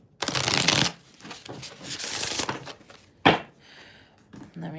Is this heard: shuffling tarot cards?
yes